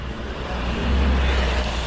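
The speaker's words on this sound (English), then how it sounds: "And there's a sightseeing bus." A sightseeing bus rumbles past on a Toronto city street, a heavy low engine drone swelling as it nears the listener and then easing off, steady traffic noise with no talk.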